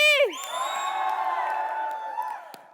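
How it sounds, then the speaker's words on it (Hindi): A television entertainment show's studio audience greets two arriving guests with a loud burst of cheering and whoops that stays at an even level for a couple of seconds before tapering off. "जोरदार तालियों से स्वागत कीजिए रवि दुबे और आशा नेगी का"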